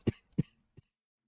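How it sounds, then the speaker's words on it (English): Three short, sharp coughs come close to the microphone. The first two are strong and quick together, and a weaker third follows after a brief pause, with silence around them. "Wow, coughing, coughing, coughing."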